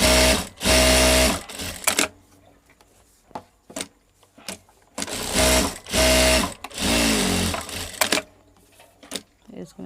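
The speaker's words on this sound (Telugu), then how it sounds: "దీని మీద ఒక స్టిచ్ వేసింది." A sewing machine stitches a blouse in loud, steady runs of whirring needle strokes, stopping and restarting several times with quiet pauses between bursts.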